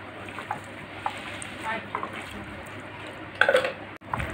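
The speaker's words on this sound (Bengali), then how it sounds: "আমি সুন্দরভাবে মাখিয়ে নিচ্ছি আমটা বন্ধুরা।" Sour mango mashed and mixed by hand with spices and a spoonful of sugar: soft, close wet squishing and squelching in scattered bursts, faint at first with a louder sticky squelch near the end.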